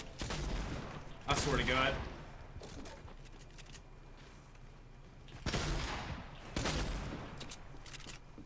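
Minigun fire in Fortnite arrives in several loud, close bursts separated by quieter gaps, with a person talking over part of it.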